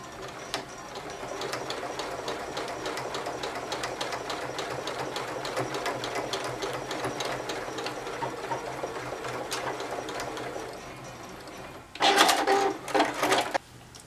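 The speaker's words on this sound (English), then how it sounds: "go backwards, and then just sew along the top of those stitches" A sewing machine runs steadily for about twelve seconds, its needle chattering in a fast even rhythm while it sews a straight stitch. The sound is close and loud, and a couple of sharp mechanical clacks follow at the end.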